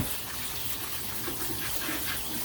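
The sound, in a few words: rinsing a metal bowl under running tap water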